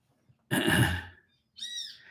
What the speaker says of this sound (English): It's that same Kiskadee.